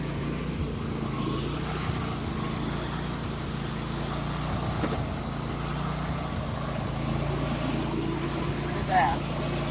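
Engine of a John Deere LA150 lawn tractor with a gear drive transmission running steadily on a cold day, a continuous low rumble throughout with someone talking over it.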